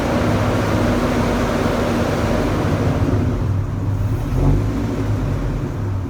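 Dodge Ram V10 engine running rough with poor throttle response on nasty old fuel, a steady low rumbling drone with a slight surge midway, close and continuous without speech.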